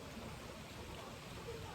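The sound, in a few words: rain falling outdoors under a tree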